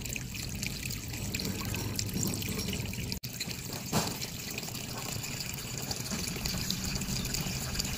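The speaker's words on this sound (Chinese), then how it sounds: "就是因为这个地方在冒小气泡" Small air bubbles escape from a leaking air conditioner evaporator held underwater, making a steady, faint trickling and bubbling that runs throughout with one brief dropout.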